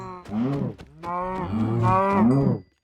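Minecraft cows moo loudly and close by, several drawn-out lowing calls overlapping in quick succession, then silence.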